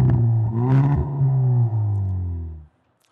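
A 2018 Hyundai i30N engine at a live Frankfurt 2017 IAA auto show premiere, holding a loud, steady low growl with small rev surges for almost three seconds, then cutting off abruptly into silence.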